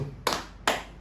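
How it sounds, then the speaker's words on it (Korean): Two sharp hand claps, close and evenly spaced, ring out in a short moment at a church summer camp gathering. "박수."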